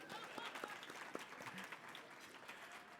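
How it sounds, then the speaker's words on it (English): Scattered clapping from an audience at a business luncheon, fairly faint and thin, with a steady room murmur underneath and a few louder claps standing out. "You can clap if you'd like."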